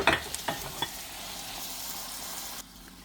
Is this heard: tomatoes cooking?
yes